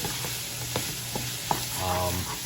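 Onions, peppers and garlic fry together in a pan for enchiladas, giving a steady close sizzling hiss broken by a few soft taps and pops.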